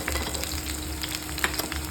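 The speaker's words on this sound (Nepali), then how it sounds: "यसलाई चाहिँ थोरै एकछिन भुट्नु होला।" Vegetables for a Nepali-style veg chowmein stir-fry briefly in a hot pan, giving a loud, dense, continuous sizzle with small stirring bumps and no talk.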